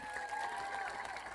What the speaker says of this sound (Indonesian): Tepuk tangan untuk Madiun.